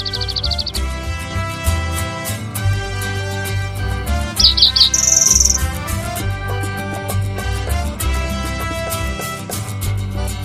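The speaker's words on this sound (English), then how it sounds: "We were treated to great views of the gray-headed subspecies of dark-eyed junco." A gray-headed dark-eyed junco calls in the Sandia Mountains with a few short, high chirps, heard over loud background music.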